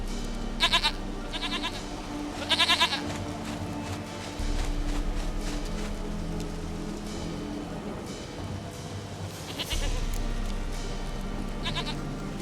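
A goat bleating in The Witcher 3: several short, nasal bleats spaced a few seconds apart, clear and close over a steady low rumble of game ambience.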